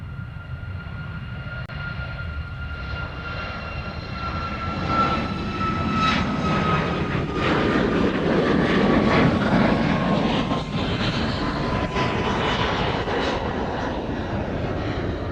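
A Southwest airliner departing Honolulu for Maui roars along the runway, its jet engines building into a loud, sustained rumble with a rising whine that swells and passes fairly close.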